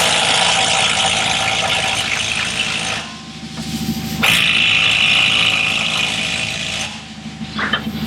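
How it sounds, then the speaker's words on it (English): Pneumatic impact wrench with a gray 35mm impact socket working on a Chevy Equinox: loud, sustained mechanical rattling hammering in two bursts with a short dip between them, close up. "This will require the use of a gray pneumatic 35mm impact socket."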